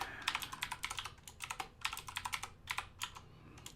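Rapid, uneven keystrokes on a computer keyboard as a wallet password is typed, close and fairly quiet, coming in short bursts with brief pauses.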